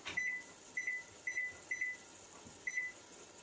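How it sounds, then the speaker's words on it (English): A kitchen timer chirps as it is set: five quick double beeps, each a pair of short, bright tones spaced about half a second apart, faint and close in a quiet room. "I'm going to go ahead and set my timer."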